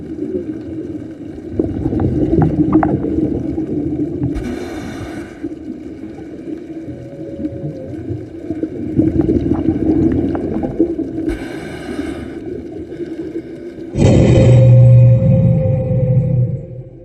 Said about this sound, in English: Oh man, I can already hear the whales.